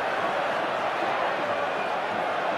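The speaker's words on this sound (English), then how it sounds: "the crowd is absolutely going wild" A large crowd roars wildly and continuously at a rugby league event, a dense, loud wall of cheering that holds steady throughout with no break or lull.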